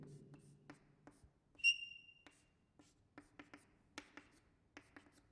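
Quick taps and scratches of chalk or marker on a board during a chemistry lecture on LiAlH4 reduction, with one sharp squeaky whistle of the tip early on, then sparse strokes and clicks in a quiet room.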